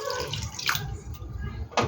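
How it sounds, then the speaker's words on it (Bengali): Water from a mixer-rinse poured into a ground rice batter for paper patishapta pitha, a soft splashing trickle and drips into the bowl, fairly close and moderately quiet with a brief louder splash near the end. "এটার মধ্যে জল দিয়ে দিচ্ছি বন্ধুরা, মিক্সি ধোয়া জলটাই আমি দিয়ে দিচ্ছি।"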